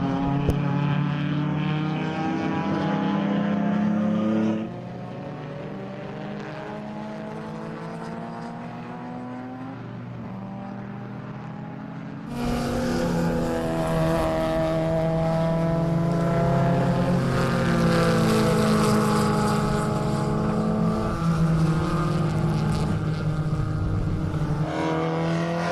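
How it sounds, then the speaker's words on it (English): Race cars lapping the Zwartkops circuit during the Zwartkopanapolis 500, engines droning loudly and continuously with shifting pitch as cars pass, a louder surge of engine noise swelling in partway through. "We'll leave you with the sights and sounds of on-track racing."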